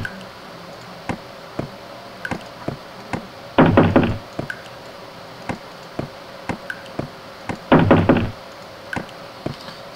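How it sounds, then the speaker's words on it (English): In the video game The Kite, sharp single knocks sound at uneven intervals, and two bursts of fast, loud banging on a door break in. No one speaks. "Stop banging on my doors!"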